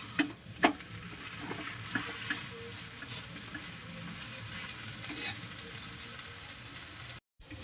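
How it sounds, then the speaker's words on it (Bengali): Radish parathas fry in oil on a pan, a continuous close sizzle and crackle with a few sharper pops near the start, running evenly before cutting off briefly at the end. "এইভাবে সব পরোটাগুলো ভেজে নেব।"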